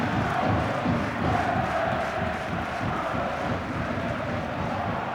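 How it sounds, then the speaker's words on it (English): Football stadium crowd at the Valley during a 1999 match, a dense continuous roar of chanting and shouting fans that stays loud and even throughout. "the crowd here this afternoon making as much noise as they did then"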